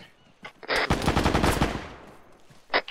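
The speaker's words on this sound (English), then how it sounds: "use the machine gun" Machine gun fire in a military video game, a rapid close burst of automatic shots lasting about a second and a half, with a single sharp report afterward.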